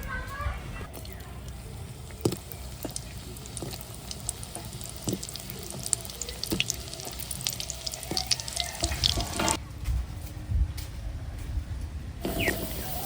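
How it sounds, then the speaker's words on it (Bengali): Snacks of flattened rice and egg frying in a pan, giving a low, steady sizzle with occasional clicks and scrapes from a utensil, fairly faint throughout. "এবার বাকিগুলো ভেজে নিচ্ছি"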